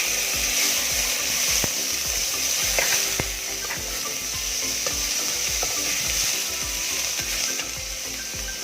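Beef and garlic sautéing in hot oil for Korean seaweed soup, a steady loud sizzle throughout with intermittent scraping and clacking of a utensil stirring in the pan, no voices.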